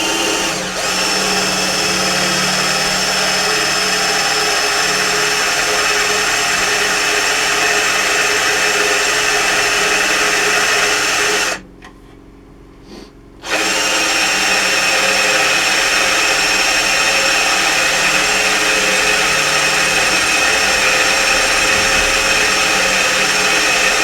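An Atlas 74 pillar drill boring into cast iron, a loud steady motorised whine with a constant hum that runs for about twenty seconds, broken by one brief stop of roughly two seconds before it starts again.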